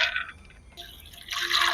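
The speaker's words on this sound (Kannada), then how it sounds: "ಒಂದು 2 ಲೋಟ ನೀರು ಸೇರಿಸುವ" Water poured into a pressure cooker holding soaked black pigeon peas, a short splashing pour in two bursts with a brief lull between, close and alone.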